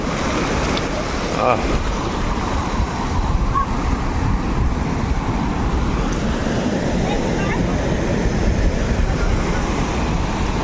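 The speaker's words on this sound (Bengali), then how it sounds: "বাপ রে বাপ, কি বড় বড় ঢেউ এসে আছড়ে পড়ছে।" Big sea waves crash and roar steadily against rocks on the Visakhapatnam coast, with wind buffeting the microphone and a constant heavy wash of surf.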